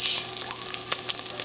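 Bacon frying in a pan, a dense steady hiss of sizzling fat with small crackles and pops, close and continuous.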